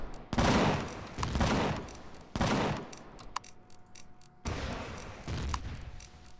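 A cannon turret fires in the space survival game Empyrion Galactic Survival: three heavy, booming salvos with rumbling tails, spaced a second or two apart, loud and close with no voices.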